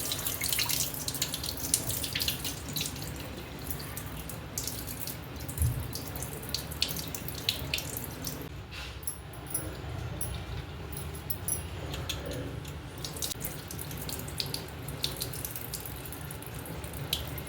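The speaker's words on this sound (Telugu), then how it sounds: "ఇప్పుడు ఈ రెండింటిని శుభ్రంగా కడుక్కొని వాటర్ వేసుకుని పక్కన పెట్టుకుందామండి" Moong dal and rice being washed under a running kitchen tap, with a steady stream of water splashing into a sink and the grains swished around by hand, continuous and close throughout.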